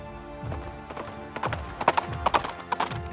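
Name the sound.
horse hooves clip-clopping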